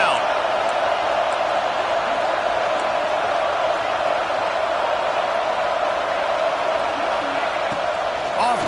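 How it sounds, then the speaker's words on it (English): Football stadium crowd roaring behind the home defense on third down, a dense, sustained wash of cheering and noise at constant loudness throughout. "Decibels rising as the crowd gets behind this defense on third down."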